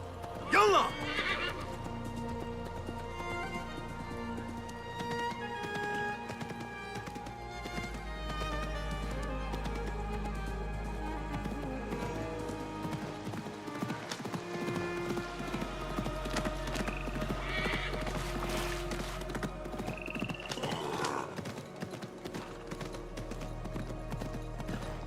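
A horse in Assassin's Creed Mirage whinnies and gallops with steady clip-clop hoofbeats, running continuously and fairly close under game music, with someone talking over parts of it.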